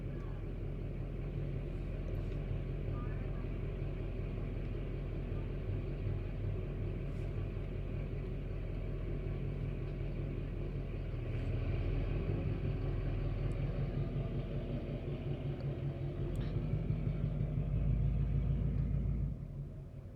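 A loud truck passes close by outdoors, a steady heavy engine rumble that swells toward the end of the twenty seconds with no talk over it.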